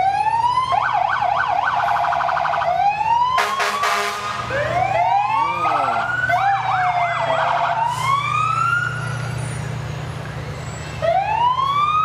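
Fire engine sirens at a Fourth of July parade in Waupaca, Wisconsin: loud, close wailing and yelping tones overlapping and sweeping up and down continuously, with a rumbling engine and crowd noise beneath.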